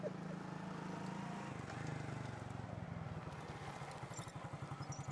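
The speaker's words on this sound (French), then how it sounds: "Regardez, le chef s'est payé une moto." A motorcycle engine runs steadily at moderate distance, then grows louder and more uneven near the end, with voices talking over it.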